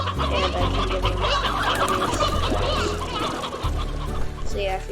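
Chickens cluck in the Slime Rancher video game, their calls packed into a dense, continuous wash of game sound that stays steady and fairly loud throughout.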